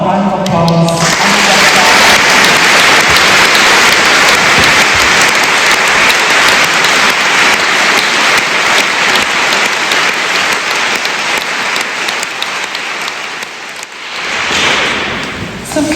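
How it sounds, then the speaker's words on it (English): An audience at a Dublin Book Festival tribute event breaks into loud, sustained applause that holds steady for about thirteen seconds, then thins out and fades. "Would you give them all a round of applause?"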